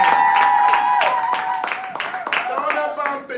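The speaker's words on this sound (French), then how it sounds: "On peut applaudir le Seigneur ce matin." Church congregation in Casablanca clapping and applauding during a Sunday morning service, loud and close, with cheering voices rising over the claps.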